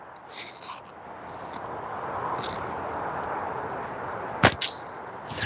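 A single sharp metallic clang rings out near the end with a lingering bright tone, over a steady broadband whooshing background and a few faint earlier impacts.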